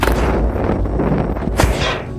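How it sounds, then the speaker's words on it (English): An explosion rips through an apartment building in a thriller film scene, a loud, sustained roar of blast noise with a sharper burst near the end. "as authorities storm his apartment, an explosion rips through the building"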